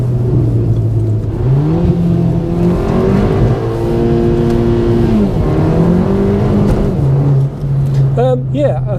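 A modified VW Polo GTI engine revs up steadily toward the rev limiter from inside the car, a loud rising drone that holds high, dips and settles, with a person talking over it.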